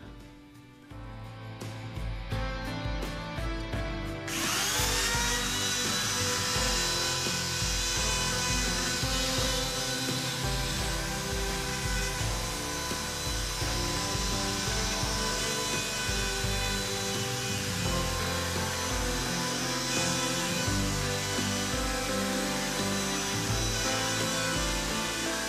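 Router milling across wood on a router-bit flattening jig, a loud, steady high-pitched whine with a continuous cutting roar that holds for over twenty seconds after a brief lower start.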